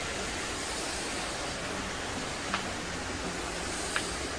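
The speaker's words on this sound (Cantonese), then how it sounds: "入到嚟係落到去個橋底下面，有個小瀑布" A small waterfall spilling under a bridge at Ho Pui campsite in Tai Lam Country Park, Hong Kong, makes a steady, close rushing wash that fills the whole stretch, with a couple of faint clicks on top.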